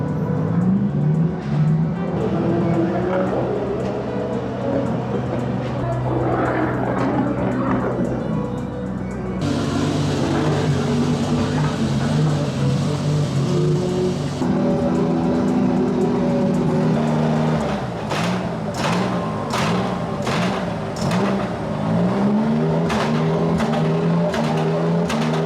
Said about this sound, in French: J'ai pas osé parler pour qu'on puisse un peu profiter du son moteur